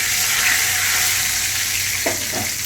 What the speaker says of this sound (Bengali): কড়াইতে দু চামচ মতো তেল আবার নিয়ে নিয়েছি নিয়ে আমি এখানে আগে প্রথমেই তেজপাতা দিয়ে দিলাম